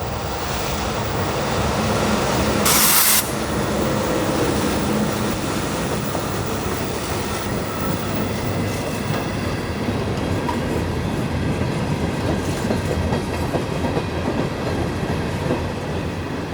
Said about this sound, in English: I caught the train again on a sweeping curve just east of the siding of IMC